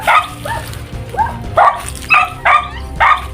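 A dog barks in a quick series of six or so sharp, close barks, some with a whiny yelping edge.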